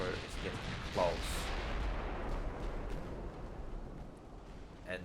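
Naval guns fire during a sea battle in the Ultimate Admiral: Dreadnoughts game, with a loud opening boom giving way to a long rumbling roar and distant gunfire under faint murmuring.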